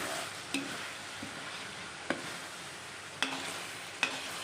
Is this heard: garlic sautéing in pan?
yes